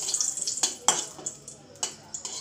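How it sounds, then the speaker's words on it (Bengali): Bay leaves drop into hot oil in a pan and sizzle, with sharp crackles and pops bursting out in quick irregular spurts over a soft, steady frying hiss. "এখন এটার মধ্যে আমি একটু তেজপাতা ছেড়ে দেবো"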